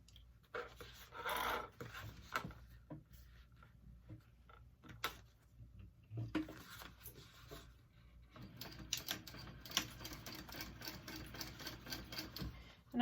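A sewing machine top stitches a handbag seam in short, quiet runs mixed with fabric handling and rustling, faint and fairly distant, with brief bursts and pauses throughout.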